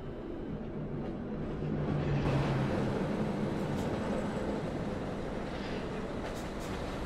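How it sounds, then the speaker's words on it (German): A tram rolls past a truck on a city street in Euro Truck Simulator 2, giving a steady rumbling rail drone with a low hum that swells slightly as it passes and then holds. "Oh, diese Straßenbahn."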